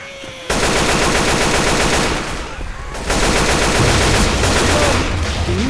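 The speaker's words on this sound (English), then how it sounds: "Can you stop shooting me?" Rapid machine-gun fire in Left 4 Dead 2 aimed at the player, loud and sustained with one short lull midway, firing again hard to the end.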